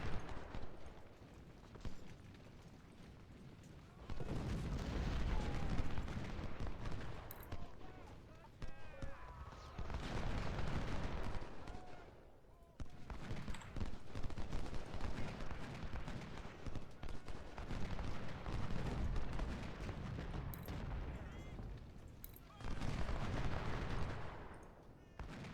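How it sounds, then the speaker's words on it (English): Massed musket and rifle gunfire in a Civil War strategy video game, long bursts of crackling volleys in waves with brief lulls between, mid-distance and dense, with a voice talking over parts of it. "I think my guys are going to shoot up the supply wagon"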